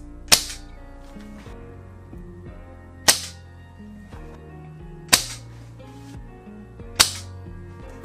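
An ARES WA2000 airsoft rifle fires four sharp, isolated shots a few seconds apart, each a crisp snap with a brief mechanical rattle after it, close by in an otherwise quiet room.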